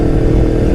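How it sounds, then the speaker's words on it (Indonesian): A Honda CBR 250RR motorcycle engine revving, a loud, close, dense mechanical roar with rapid firing pulses held steady through the brief moment, no speech over it. "dia di gas sedikit itu motor kayak udah mau terbang gitu loh"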